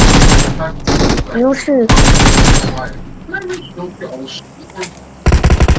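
Loud bursts of automatic gunfire from PUBG Mobile, with a long volley at the start, another after a short gap and a final burst at the end, separated by quieter game sounds and brief speech.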